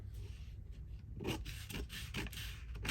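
Vellum paper is trimmed for a craft page with soft, quiet rubbing and scraping strokes, several short passes in close succession.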